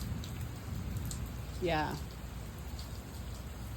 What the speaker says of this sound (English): The rain seems to be coming back.